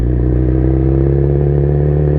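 Motorcycle rolling along a street in first gear, a steady low engine drone with a pulsing exhaust note and some clatter, loud and close throughout.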